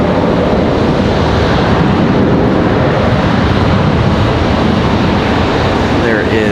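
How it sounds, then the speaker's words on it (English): Copa Airlines airliner moving at Raleigh-Durham airport, bound for Panama City: a steady, loud broadband roar with heavy wind buffeting on the microphone, continuous throughout. "We've got Copa Airlines on the move, headed back to Panama City,"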